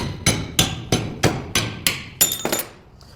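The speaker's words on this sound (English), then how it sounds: "Let's clamp it to a vise and smack it with a hammer and see how it holds up." Hammer blows on gas-welded metal clamped in a vise: seven sharp, evenly spaced metallic strikes, loud and close, with the last few coming quicker and ringing brightly before a brief quiet tail.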